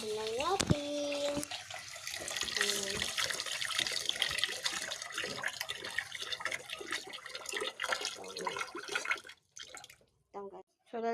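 Tap water runs steadily into a container at a kitchen sink, a continuous splashing stream lasting most of the stretch, with voices talking over it and a few brief pauses near the end.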